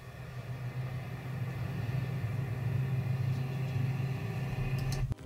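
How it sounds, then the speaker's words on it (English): Steady traffic rumble with a low engine drone and faint road noise, even and continuous, ending abruptly. "Let's add another effect here to the traffic shot I have here. So I'm just gonna type in traffic."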